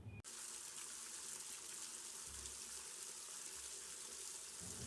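Tap water gushes in a steady, even stream while raw chicken is washed for a chicken fry, a constant soft rush with a brief clatter at the start and no talk.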